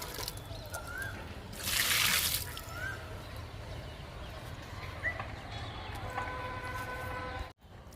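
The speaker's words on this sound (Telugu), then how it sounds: "జామ మొక్కకి ఇస్తున్నాను వాటరు." Water is poured onto a guava plant in a garden, giving a soft trickle with one brief, louder gush near the start, faint against quiet outdoor background.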